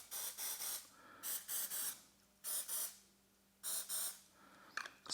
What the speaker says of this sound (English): Spray that activator, let the activator do its thing